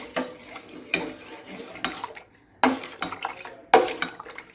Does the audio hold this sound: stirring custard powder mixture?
yes